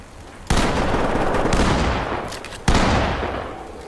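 Gunshots in the tactical shooter Ready or Not, two loud close reports a couple of seconds apart, each with a sharp crack and a long echoing tail, no voices over them.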